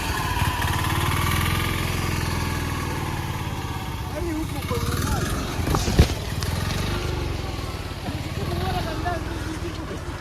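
A tuk-tuk engine labours while the vehicle is pulled out of muddy farm soil, a steady low throbbing putter with a brief sharp knock near the middle, and voices talk over it throughout.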